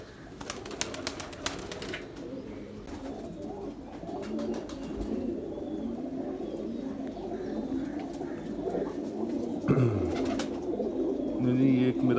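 A prized racing pigeon coos softly amid other birds and a busy outdoor background, with voices talking faintly in the distance.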